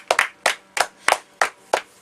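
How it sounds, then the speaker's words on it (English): Six crisp, evenly spaced handclaps for a 2015 wiffle ball league Hall of Fame inductee, close and distinct with silence between them rather than a full crowd ovation. "Let's give a round of applause there to Kevin Minot"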